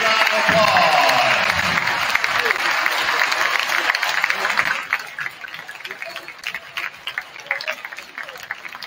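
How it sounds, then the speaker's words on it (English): A crowd claps for the seniors at a high school varsity basketball game between Antwerp and Hilltop, loud and dense at first, then thinning into scattered claps, with voices mixed in underneath. "Let's give the seniors a big round of applause."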